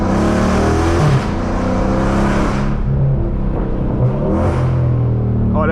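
Catless Dodge 392 Scat Pack exhaust blares loudly and close, a deep rumbling drone that climbs and swells with revs, then settles back to a steady growl.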